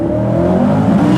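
A 1000 RWH Chevrolet Corvette C8 accelerates hard with a loud, rising engine note heard from inside the car.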